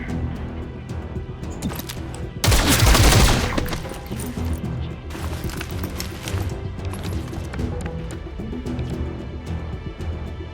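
Burst of gunfire in the turn-based game XCOM Chimera Squad, a loud dense volley lasting about a second, followed by scattered cracks and game sounds over a steady background.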